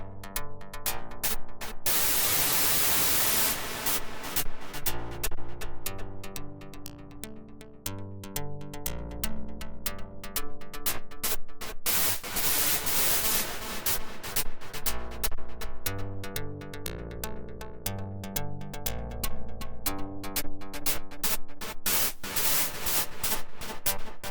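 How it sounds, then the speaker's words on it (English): Bursts of synthesized white noise from an Octatrack, using comb filter synthesis, retrigger rapidly in strumming, stuttering patterns, their pitch and tone shifting constantly over a steady electronic backdrop. "re-triggering as well as re-pitching the white noise"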